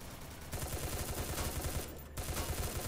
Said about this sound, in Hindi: बाप रे शॉटगन चला रहा है